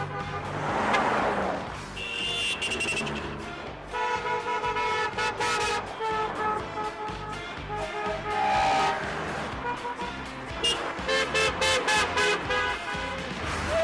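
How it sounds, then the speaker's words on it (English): Car horns honk in a loud, busy series, with short toots and longer blasts in varied pitches overlapping one another in an indoor setting. "we've got the horn."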